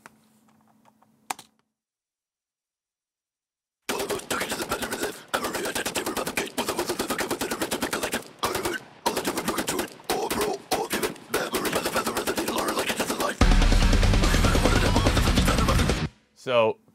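Rapid, layered bursts of gunfire-like cracks in a metal song intro pound in a dense rhythmic pattern, opening after a quiet start and building into a loud, sustained texture.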